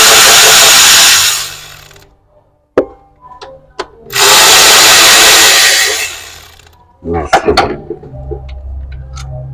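Power tool unbolting a part on a 2014 Toyota Highlander engine during a valve cover reseal: two loud sustained whirring bursts, separated by brief clicks and knocks, followed by clattering metal handling.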